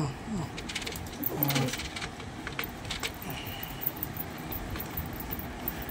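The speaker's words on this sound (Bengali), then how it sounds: "এখানে যা পায়রা আছে সব মোটামুটি সবুজ পায়রা" Green pigeons cooing in a low, soft, steady murmur, with other birds chirping and faint background noise throughout.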